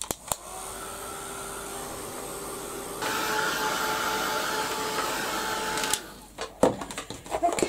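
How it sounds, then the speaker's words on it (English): A heat gun blows a steady, loud rushing stream of air onto a tissue-textured paper page, its pitch shifting partway through before it cuts off, followed by a few handling knocks. "I'm just going to give it a quick blast with the heat gun."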